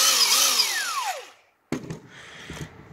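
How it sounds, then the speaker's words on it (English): A Milwaukee impact wrench, a new one rated around 1,600 foot-pounds, used while working on an Oliver tractor: a whirring run that winds down in pitch, a short pause, then a burst of rattling, hammering clatter close by. "I'm gonna work on the Oliver with my new gift of Milwaukee impact wrench."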